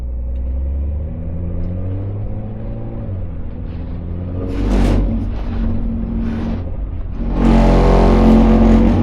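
A Porsche engine drones steadily at close range on the Hockenheimring racetrack, then surges louder twice as it accelerates, with a deep rumbling roar throughout.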